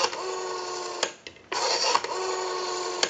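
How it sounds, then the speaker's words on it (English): A Western Electric Rotary 500 telephone's rotary dial returns smoothly, a steady buzzing whir broken by brief clicks and short pauses, close and continuous with no talk. "If you watch the analyzer, you'll watch the numbers roll by. Our rotary is returning smoothly."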